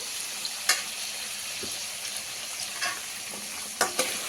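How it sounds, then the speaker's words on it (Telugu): Onion, chili and tomato frying with a constant sizzle, punctuated by a few sharp clinks and scrapes of stirring. "ఇలా ఉల్లిపాయ, పచ్చిమిర్చి, టమాటా కూడా ఫ్రై చేసుకోవాలండి."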